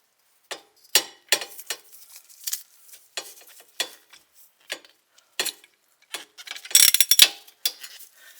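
A 1/2 inch breaker bar works a lower bolt on a Subaru BRZ rear wheel, giving a run of sharp, close ratcheting clicks in irregular bursts, louder near the end, with no talk.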